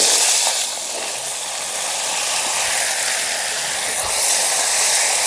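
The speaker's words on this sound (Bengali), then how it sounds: "কেটে রাখা আলু আর সিমগুলো দিয়ে দিচ্ছি।" Cut potatoes and beans sizzle loudly in hot oil with bay leaf, dried chilli and cumin in a frying pan, a constant bright hiss that dips briefly and then holds steady.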